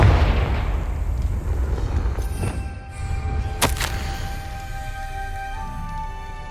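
A Confringo blasting spell explodes in Hogwarts Legacy, giving a loud, sharp blast near the middle that rings out over a constant low rumble of game ambience and music.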